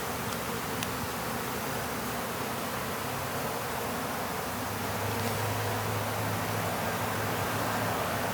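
Honey bees swarm around an opened nuc hive during a treatment visit, a steady close buzzing drone that fills the whole clip without any talk.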